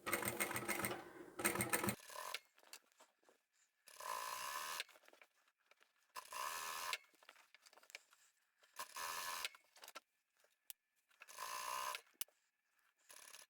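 A sewing machine stitching facing onto a quilt runs in five short bursts, each a few seconds of rapid, steady whirring and needle clatter, separated by quiet pauses while the fabric is repositioned.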